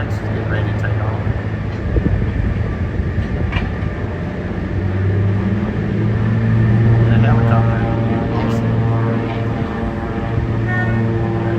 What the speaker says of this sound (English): And the next is getting ready to take off.